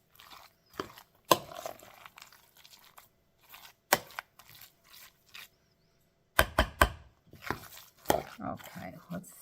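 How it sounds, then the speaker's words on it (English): Salmon salad is mixed in a bowl with a utensil, producing irregular bursts of close scraping and clinking separated by quiet pauses, with some brief talk between strokes. "Mix this up good, and then I will taste test it one more time."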